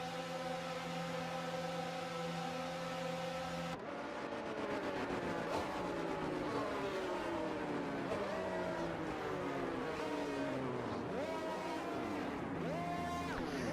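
Formula 1 cars in F1 22 idle and rev on the starting grid, a dense engine drone with rising and falling harmonic sweeps as cars pull into position, steady and loud throughout after an opening stretch of constant hum.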